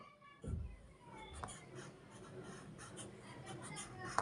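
A word being handwritten during a first-grade Bangla lesson, heard as a soft scratch of pen or chalk strokes, with a louder tap near the start and faint scraping after it, quiet and close.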